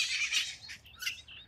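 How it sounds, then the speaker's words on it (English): Wild parrots descended from escaped captive birds call outdoors in California, a burst of bright, shrill chirps and squawks repeating over a couple of seconds, fairly faint and unaccompanied by voices. "These parrots are the descendants of some parrots that escaped"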